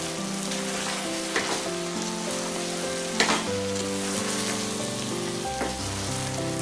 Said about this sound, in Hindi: अब हम इसमें मशरूम डालेंगे, मिक्स कर लेते हैं।